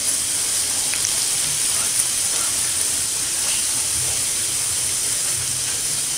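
Ajwain dropped into hot oil with cooked garlic, giving a steady bright sizzling hiss that runs evenly throughout, close and fairly loud with no speech over it.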